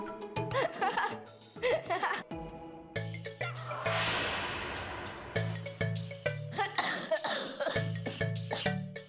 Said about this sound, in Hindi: मिर्ची हमने खाई, तू क्यों खांस रहा है बे?